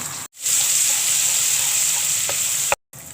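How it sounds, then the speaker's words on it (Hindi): Garlic ginger paste sizzles steadily in hot oil in a pan for bhuna gosht, a continuous close frying hiss with brief stirring clatter and short gaps, no voice. "लहसुन अदरक की भुनाई हो गई है"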